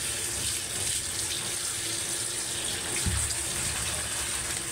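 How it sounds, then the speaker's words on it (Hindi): Tap water running steadily into a sink while chicken liver is washed, a constant close splashing stream with a small clunk partway through and no speech. "और इसको हम अच्छे से अब धो लेते हैं दोबारा से।"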